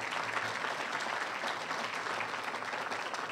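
A crowd applauds steadily at a police department press event announcing crime reductions, honoring a council vice chair; dense, even clapping fills the moment without a break or voices.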